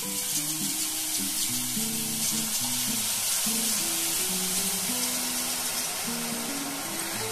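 Pieces frying in oil in a kadai, a steady close sizzle and hiss running the whole time at even loudness, with a repeating tonal hum in the background and no talking.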